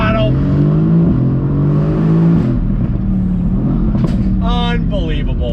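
A Mercedes-AMG GT C convertible sports car accelerates hard on throttle, its loud engine revving and rising in pitch up close, while someone talks over it.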